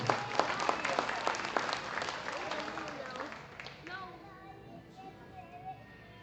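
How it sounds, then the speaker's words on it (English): Applause at a heifer cattle show: a crowd claps loudly at first, then the clapping thins and fades while voices chatter in the background. "Let's go ahead and give everybody a huge round of applause"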